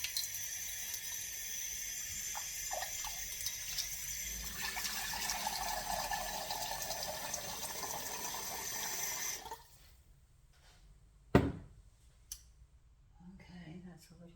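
Water poured into a large pot of homemade pumpkin soup, a steady splashing stream lasting several seconds before stopping, followed by a short clunk and quiet kitchen noise.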